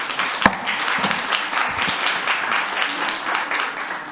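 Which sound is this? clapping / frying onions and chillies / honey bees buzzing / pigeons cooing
clapping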